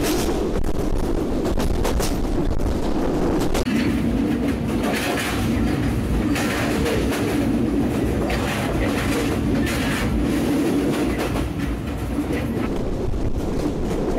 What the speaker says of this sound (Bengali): খেলিয়ে দুলিয়ে সবাইকে নিয়ে চলছে আন্তনগর বাংলাবান্ধা এক্সপ্রেস